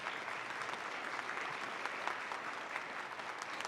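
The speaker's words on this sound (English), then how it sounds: "Let's give her a round of applause." Audience applause at a college convocation and campus blessing, a steady dense clapping that holds evenly throughout without talk.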